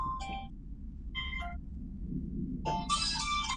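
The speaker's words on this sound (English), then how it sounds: "Phone's ringing." A phone ringing in short electronic bursts, faint and somewhat distant over a low background rumble, with a longer, busier ring tone toward the end.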